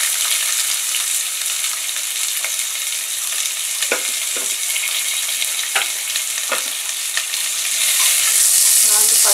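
Onion sizzles in a pan with lentils, a dense, close frying crackle broken by several soft scrapes of a spoon stirring, growing louder at the end.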